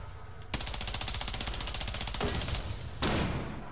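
Rapid automatic gunfire from a video game rattles in a continuous burst, with a second weapon joining partway through, steady and fairly loud.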